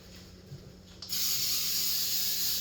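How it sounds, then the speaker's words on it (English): A sustained aerosol spray of Pam baking spray with flour hisses steadily after a brief quiet start, coating a fluted bundt pan, close and fairly loud, continuing until the end. "I'm going to coat the bottom of the pan very well, including the flute, with the Pam bacon with flour spray"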